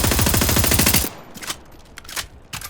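Rapid automatic gunfire rattles loud and close in a video game played on a G821 Hall Effect controller, a dense burst for about a second, then a few scattered softer shots and clicks.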